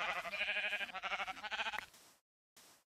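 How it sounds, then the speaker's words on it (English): Sheep in the video game Minecraft bleat in a quavering, wavering cry close by, followed by a short soft second noise after a pause. "Oh, sheep, sheep, sheep, sheep!"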